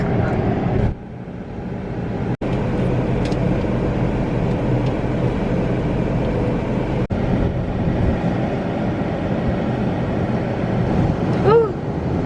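Automatic car wash running steadily around a car with the occupants inside, a loud continuous roar and rush of water and brushes lasting throughout, with a few sharp clunks from the machinery.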